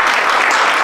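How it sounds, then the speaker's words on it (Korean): A church audience applauds at a fellowship meal, a brief burst of dense, close clapping. "박수 한번 부탁드리고요."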